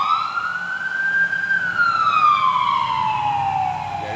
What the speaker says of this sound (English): it's a very small ambulance with a really, the siren's probably 3 times bigger